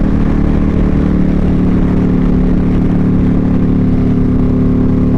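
A Harley-Davidson Street Glide motorcycle engine rumbles loudly and steadily up close, a deep, throbbing, slightly high idle with no pause.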